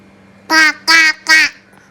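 A voice imitates a duck with three nasal "quack" calls in a quick, even rhythm, close and loud against a faint hum.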